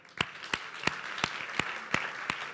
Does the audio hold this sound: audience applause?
yes